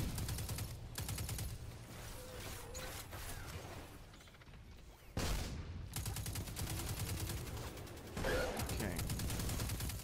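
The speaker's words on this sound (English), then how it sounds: "Stop shooting me." Gunfire from the Destiny 2 video game during a boss fight, rapid bursts of automatic shots and mechanical clatter in several loud stretches broken by short quieter gaps, with game effects layered over them.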